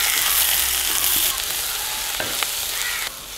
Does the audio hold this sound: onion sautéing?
yes